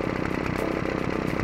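A toy rock saw switched on, a loud, steady buzzing motor whine that runs continuously and close up, with no pauses.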